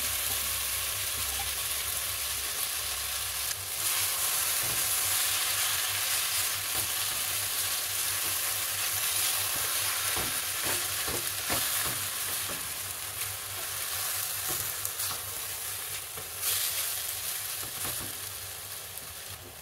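Grated raw mango is sautéed over a low flame in a pan for a mango gulamba, with a continuous gentle sizzle broken by repeated light scraping and stirring strokes. The sound stays fairly close and quiet.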